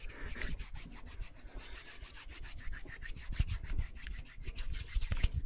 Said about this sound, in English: that's the hand rub